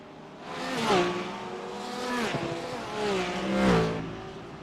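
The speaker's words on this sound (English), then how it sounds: "Man, AMG sounds cool." An AMG GT3 race car engine in the iRacing sim, with rising and falling revs through gear changes and downshifts, a harmonic engine howl with a brief tire squeal, heard without talk.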